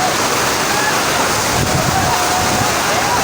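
Floodwater surges through streets during torrential rain in Karachi, a loud, continuous rushing roar that stays constant throughout.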